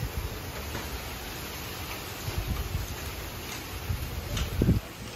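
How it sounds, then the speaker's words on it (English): Strong wind during Hurricane Ian roaring steadily outside a home, a dense broadband rush with gusts swelling louder toward the end, close and buffeting the microphone, with no talk. "the wind is very strong"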